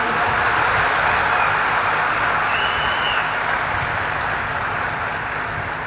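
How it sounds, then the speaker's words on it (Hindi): An audience claps together for a little girl who has recited the Hanuman Chalisa, producing a dense, steady wash of applause that holds loud throughout and eases slightly toward the end. "एक बार ताली बजाओ झूम के।"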